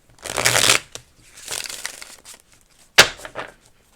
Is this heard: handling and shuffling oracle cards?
yes